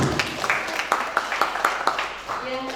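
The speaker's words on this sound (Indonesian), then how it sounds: "tepuk tangan dulu ya, yang keras" Audience applause at a contemporary new media art discussion session, a brisk run of claps from a seated crowd that tapers off as a voice begins speaking at the end.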